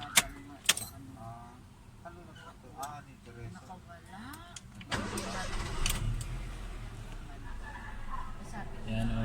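Honda City i-DSI car, engine cranking and catching after a few clicks and key jangles, then settling into a steady nearby idle, with someone speaking over the start.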